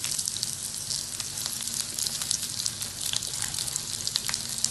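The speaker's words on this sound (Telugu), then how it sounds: "ఆనియన్స్ని మనం గోల్డెన్ బ్రౌన్ వచ్చేదాకా వేసుకోవాలి." Onions fry in a pan until golden brown, giving a steady, crackling sizzle with fine popping throughout and a low rumble beneath, and no one speaks.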